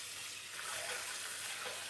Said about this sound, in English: I'm just going to rinse the bowl